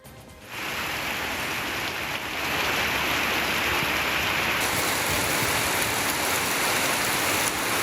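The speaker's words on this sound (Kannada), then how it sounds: "ಕೊಟ್ಟಿಗೆಹಾರ, ಚಾರ್ಮಾಡಿ ಘಾಟ್, ಬಾಳೂರು ಸುತ್ತಮುತ್ತ ಭಾರೀ ಮಳೆಯಾಗಿದೆ" Heavy monsoon rain pours down in the Western Ghats around Charmadi Ghat and Kottigehara, a dense, steady roar of falling water that swells slightly after the first couple of seconds and continues without pause, with no voices.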